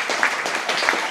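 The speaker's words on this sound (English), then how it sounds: "can we have a round of applause for Brendan as well" A comedy-night crowd at Rawhide applauds, close and fairly loud, with sharp individual claps and a few whoops standing out from the steady patter.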